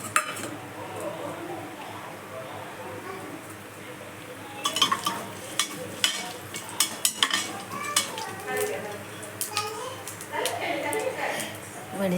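Spices being tempered in ghee in a pan, with spoon clinks and scrapes against metal over a light sizzle, while someone talks throughout.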